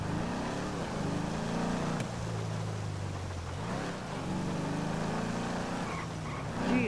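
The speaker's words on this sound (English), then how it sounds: "This car sounds so good with the custom exhaust when you like," Revving sports car with a custom exhaust in GTA 5 Online, engine pitch climbing and dropping through several gear shifts, loud and continuous with a sharp crack near two seconds.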